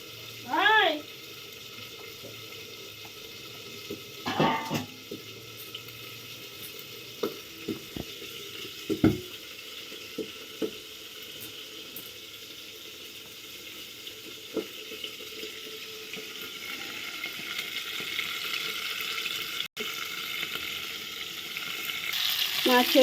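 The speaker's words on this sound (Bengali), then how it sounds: "মাথা একটা ভালো ভাজা হয়ে গেছে" A large boal fish head, cut from a seven-kilogram catfish, fries in a pan with a steady, soft sizzle that grows louder, broken by a few sharp clinks and scrapes of a utensil.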